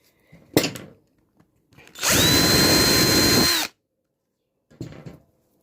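A power drill whines steadily for about a second and a half as it bores into a coconut shell, framed by brief knocks and handling sounds before and after.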